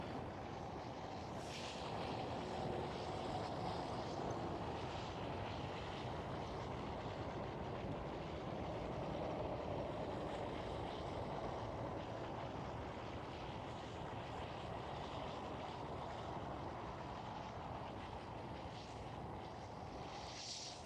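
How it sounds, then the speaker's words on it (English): A Silkway Boeing 747 jet approaching to land at Schiphol Amsterdam produces a faint, distant, continuous engine rumble that swells gently and holds low for a long stretch, with no talk over it. "Right here we do have the Silkway 747. Right above the trees, right above the KLM City Hopper. Closing in on the farm."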